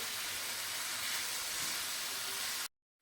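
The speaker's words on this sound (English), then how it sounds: "we're just frying the bacon with the onions now to get it nice and crispy" Steady, loud sizzling and hissing of bacon and onions frying in a pan, continuous for a few seconds before cutting off abruptly to silence.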